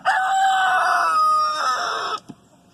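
A rooster crows loudly and close, a long harmonic call lasting about two seconds, followed by a brief cluck or scratch as it ends.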